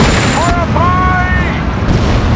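Dense, continuous battle roar from gunfire and explosions in the WWII strategy game Steel Division Normandy, loud and unbroken, with a shouted voice ringing over the din.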